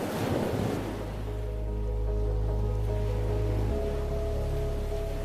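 Ocean waves surging onto a coastline, a steady loud roar of surf with wind noise against the microphone, continuous throughout with no voices.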